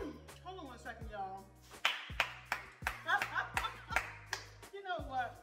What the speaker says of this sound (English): Sometimes you have to give yourself a round of applause.